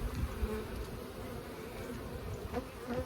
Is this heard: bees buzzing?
yes